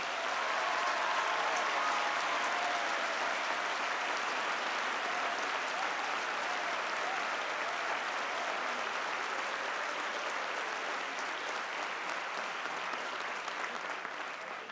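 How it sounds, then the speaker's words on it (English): Dense, sustained applause from a commencement audience at the 2012 Marymount graduation ceremony, a steady wash of many hands clapping at even loudness for nearly fifteen seconds, with no voices standing out. "we should give a real round of applause for the parents of these graduating students"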